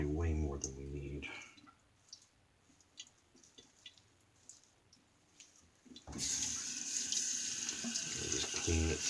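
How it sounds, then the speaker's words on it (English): Tap water running over a wooden shaving tub to rinse off soap lather, with faint clicks and handling noises in a quieter middle stretch before the flow surges loudly again. "Just clean its soap off of the tub, the wood, and then dry it."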